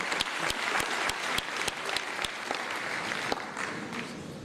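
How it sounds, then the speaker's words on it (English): Applause for schoolchildren at a Ministry of Water Resources conference attended by Sierra Leone's president, a steady crowd clapping throughout with sharp individual claps standing out near the microphone. "Clap for them."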